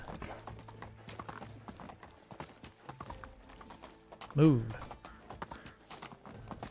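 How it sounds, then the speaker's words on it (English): Donkey hooves clip-clopping steadily in The Oxbow video game, a continuous even trot under game sounds, with someone speaking briefly and a louder animal-like cry partway through. "We're casually striding in here on our donkey."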